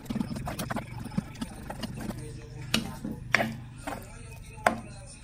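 Spoon mashing and stirring bread soaked in fresh milk in a bowl for bread pudding, repeated sharp taps and scrapes at an uneven pace, close up and fairly quiet.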